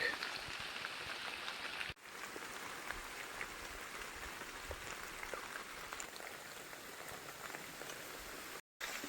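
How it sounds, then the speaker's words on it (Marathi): Continuous monsoon rain falls on a surface, an even crackling hiss that carries on for several seconds with two brief dropouts. "पाऊस कंटिन्यू चालूच आहे"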